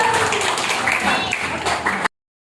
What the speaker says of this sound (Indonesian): Oke, tepuk tangan buat Dinda.